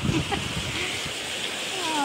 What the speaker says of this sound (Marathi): बघा किती असा पाऊस येतो.